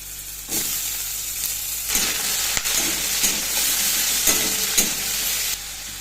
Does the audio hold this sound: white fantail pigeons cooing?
no